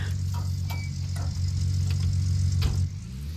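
Truck engine idling as it parks in Gold Rush The Game, a steady low rumble with light ticking and rattling on top that eases slightly near the end.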